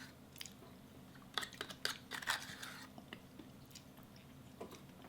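Lasagna being chewed up close, with soft wet squishing and a few brief crunchy bites clustered in the middle, quiet and intimate in a home setting.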